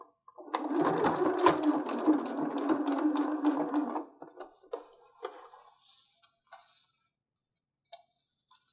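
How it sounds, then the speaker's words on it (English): Sewing machine running a quick stitch on either side of a wire in a fabric face mask, a loud steady whirring burst of about three and a half seconds, followed by scattered small clicks and taps fading to quiet. "I'm going to run a quick little stitch on either side of my wire just to make sure"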